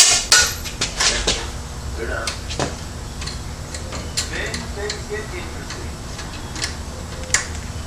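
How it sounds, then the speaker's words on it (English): A 10 mm socket wrench removes the valve cover bolts on a Briggs and Stratton V-twin lawn mower engine, making close metallic ratchet clicks that are strongest early on and then settle into faint ticking, with a voice heard throughout. "Alright, 10 millimeter socket."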